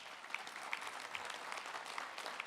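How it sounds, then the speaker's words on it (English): Fairly faint, steady applause from the audience at an NAA business meeting and election honors newly introduced trustees, a continuous wash of clapping with a few sharper claps standing out. "Please give them a big round of applause."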